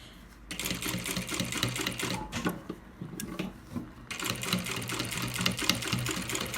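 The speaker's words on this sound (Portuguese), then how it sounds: "a gente vai vir e vai passar a costura por cima dele" A sewing machine stitches over a folded strip of fabric while sewing a baby's outing bag, a steady close mechanical whirring that runs almost without pause, briefly stopping and restarting a couple of times.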